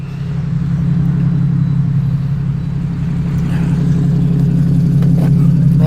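A car engine idles with a steady low rumble close by, swelling slightly in a mild rev near the end, continuous and loud with no talk over it.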